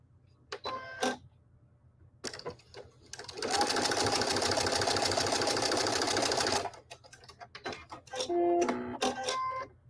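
A sewing machine stitching quilt blocks for a snowman quilt runs in a steady rapid whir for about three seconds, with short bursts of stitching and fabric handling before and after.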